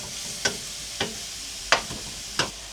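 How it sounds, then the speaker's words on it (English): Onions frying in a pan with a faint steady sizzle underneath, while a utensil stirs them in four distinct scraping strokes close by. "I'm just stirring, and I think so it takes me 7 minutes to fry this onion."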